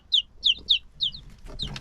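Small chicks peep in a run of four quick, high, evenly spaced calls, close and clear, followed by a few fainter overlapping cheeps among light rustling.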